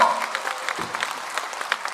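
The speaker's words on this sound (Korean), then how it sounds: "여러분 큰 박수로 환영해 주십시오" A crowd applauds steadily at a Korean entertainment and culture awards ceremony, a dense wash of many hands clapping that holds evenly for the whole stretch.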